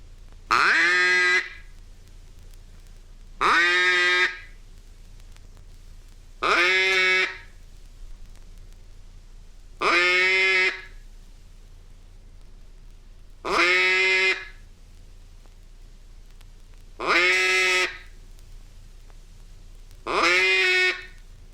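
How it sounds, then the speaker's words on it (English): A duck call blown as a lonesome hen mallard call, an instructional demonstration from 1969: seven evenly spaced bursts of quacking calls, each about a second long with short pauses between, clear and moderately loud with no talk. "a long series of quacks of medium volume"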